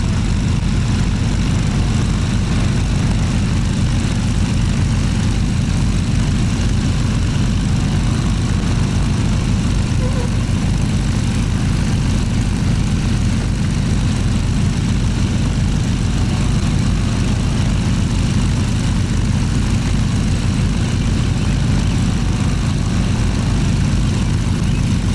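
Propeller engines of a de Havilland Twin Otter in a flight simulator drone loudly and steadily with a deep throbbing rumble, continuous and unchanging with no talking.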